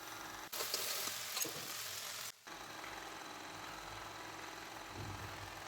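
Okra (lady's finger) fries in a pan, with a loud, bright crackling sizzle that briefly cuts out before settling into a steadier, quieter frying hiss.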